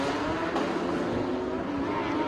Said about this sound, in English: to the sound of all those boxer engines